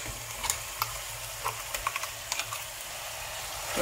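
Chicken sautéing with ground masala in a pan makes a low steady sizzle, broken by scattered light scraping and tapping as the spatula stirs.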